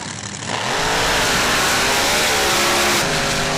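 A mud drag rail car, the Rolling Thunder, revs hard at a mud truck event in Laporte, Indiana, its engine bursting into a loud, sustained roar after a brief quieter start.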